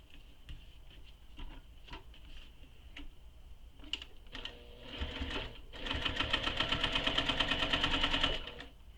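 Close-up sewing machine top stitching along a tote bag, starting with scattered clicks and taps before settling into a fast, even run of needle strokes near the end, alone without voices.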